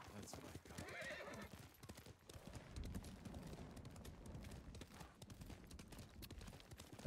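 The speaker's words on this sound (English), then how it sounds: "I want to get my horse." In the video game Ghost of Tsushima, a horse's hooves clip-clop steadily along as the horse neighs clearly, with other game sounds layered underneath.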